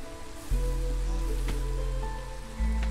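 Steady drizzle of rain in the Against the Storm game, a soft continuous patter under a low droning ambient tone that swells at the start and again near the end.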